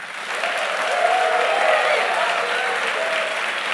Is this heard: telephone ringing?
no